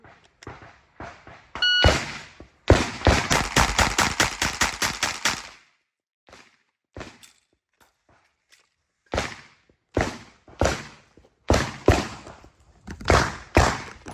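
Rapid bursts of pistol fire come from a Taran Tactical Ballerina Glock 17 Combat Master during a draw-and-shoot drill: a quick string of sharp, loud shots, a pause, then several more fast strings of shots outdoors.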